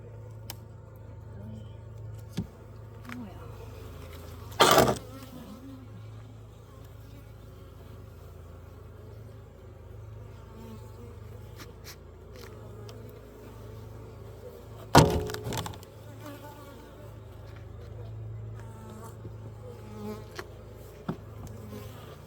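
Honeybees humming around an opened hive during a hive split, a steady close drone with two brief loud wooden knocks and clatters from the hive boxes.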